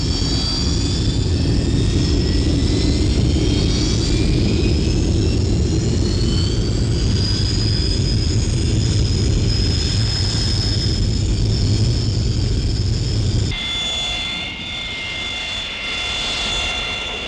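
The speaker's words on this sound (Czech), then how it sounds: "a Roy pojíždí na čáru předběžného a skutečného vzletu" A jet aircraft taxis out to the takeoff line, its loud, steady engine roar and rising whine continuous for many seconds, shifting tone near the end as it turns.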